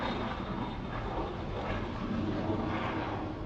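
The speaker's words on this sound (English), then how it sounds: "Airplane." An airplane drones overhead near a boat at Grand Isle, a steady broad engine roar that holds at an even level throughout, with no voices.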